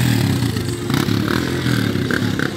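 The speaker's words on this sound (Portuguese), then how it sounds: "Cada vez mais chegando mais motoca aí." Motorcycle engines rumble and rev close by as more bikes arrive for an off-road trail ride, with clattering and scraping noises in a busy outdoor scene.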